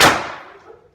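A single sharp shot from an air gun fitted with a VKS-ONE smooth-bore barrel, close and loud, its report decaying quickly into near silence with no voices.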